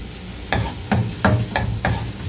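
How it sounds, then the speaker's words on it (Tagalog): Garlic sizzles in melted butter in a pan, with five evenly spaced stirring scrapes cutting through a steady frying hiss, close and fairly loud, with no talking. "ilalagay na natin yung garlic para hindi masunog yung ating butter na linagay"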